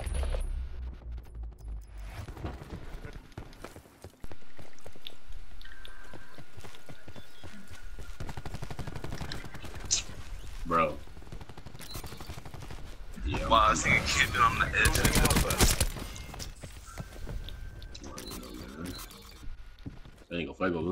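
Gunfire in a Black Ops 4 multiplayer match, with sharp bursts and rapid automatic volleys close by. A loud sustained barrage comes near the end, under excited talk from players.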